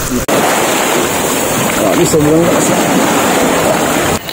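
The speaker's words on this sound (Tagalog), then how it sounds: "At dahil nga malakas ang alon, dahil high tide" Loud, roaring ocean surf at high tide and rushing wind wash over the microphone continuously, with strong waves churning close by around a large rock at Licuson Beach.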